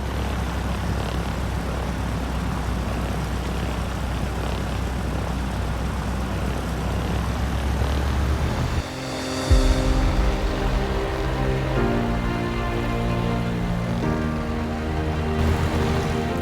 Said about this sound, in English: Have a listen to the engine sounds here.